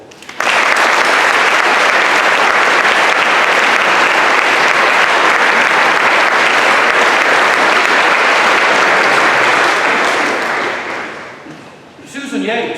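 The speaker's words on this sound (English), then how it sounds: "Let us applaud him." Loud, sustained clapping from a large audience at a school prizegiving fills the room, holding steady before fading out near the end as a voice begins to speak.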